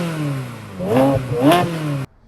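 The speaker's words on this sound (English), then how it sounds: "the symphony of that flat-playing V8 crankshaft Ferrari engine right behind your ears" A flat-plane-crank V8 in a 2001 Ferrari 360 Spider revs hard twice, rising pitch sweeping up on each blip, loud and close behind the seats, then cuts off abruptly.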